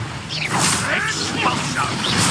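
Spell blasts and magical whooshes from combat in the Hogwarts Legacy video game, with a steady run of swishing, crackling bursts filling the short stretch at close, loud level.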